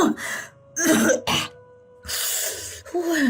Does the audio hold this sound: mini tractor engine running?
no